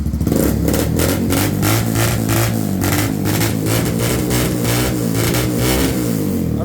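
A Zongshen ZS200GS 200cc motorcycle engine revs steadily and loudly up close, a throaty mechanical roar that holds without pause.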